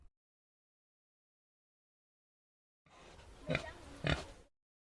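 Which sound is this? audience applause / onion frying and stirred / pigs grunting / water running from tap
pigs grunting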